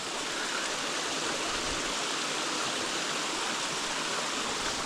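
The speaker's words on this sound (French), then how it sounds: "Oh, c'est ces petites cascades." Small mountain waterfalls and a stream fed by an old glacier in Corsica rush with a constant, even hiss of flowing water, close and steady, with no voices.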